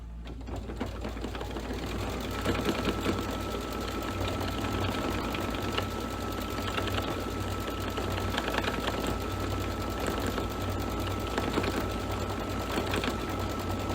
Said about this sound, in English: we are on step 12, which is stitch the spider detail